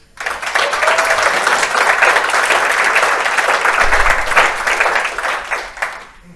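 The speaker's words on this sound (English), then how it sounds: "I would like to ask you to clap your hands again for this wonderful team" A conference audience at an international gathering in Hamburg claps in sustained, loud applause that swells quickly and fades out near the end.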